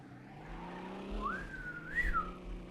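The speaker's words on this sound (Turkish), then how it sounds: "Araba tek hızlanıyor." A tuned car in the driving game Car Simulator 2 accelerating, its engine tone rising steadily and climbing higher before settling, alone at moderate level.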